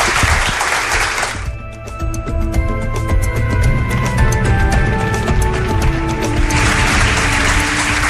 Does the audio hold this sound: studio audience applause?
yes